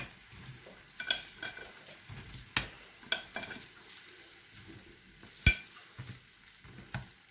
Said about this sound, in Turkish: İyice çıtır çıtır kızartacağız yani.